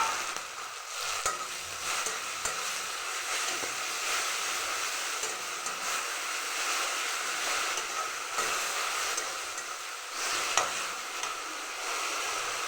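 Spice paste of onion, garlic, coriander and chili powders frying with chicken liver in a pan, giving a continuous soft sizzle with occasional stirring scrapes and clinks, no voices.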